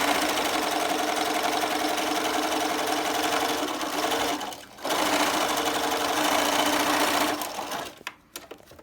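Sewing machine stitching a cloth face mask alongside a pipe cleaner, a fast continuous close-up mechanical whirr with one brief pause midway before resuming, then stopping near the end.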